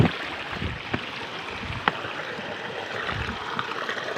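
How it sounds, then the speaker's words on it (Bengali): Rushing water of a strong stream current in a forest river, a steady broadband wash close by with a few brief splashes or knocks, no voices. "এখানে তো পুরো স্রোত"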